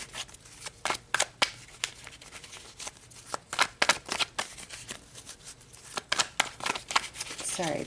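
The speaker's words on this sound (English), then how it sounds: "the cards are not wanting to shuffle. They're like kind of sticking together" Close-up tarot cards being shuffled in quick, uneven bursts of riffling and slapping, sticking together, with short pauses between flurries.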